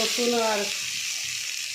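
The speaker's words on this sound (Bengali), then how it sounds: "রসুন দিয়েই ভাজা ভাজা করছি" Greens sizzling with garlic in a hot pan, a dense steady frying hiss throughout, with a short voice-like tone near the start.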